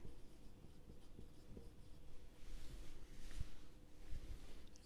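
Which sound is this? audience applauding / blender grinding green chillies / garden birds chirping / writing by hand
writing by hand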